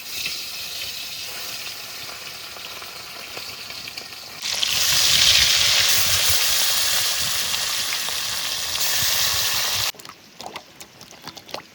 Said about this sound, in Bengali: এইবার মাছ ভাজার জন্য সর্ষের তেল দিয়ে দেবো।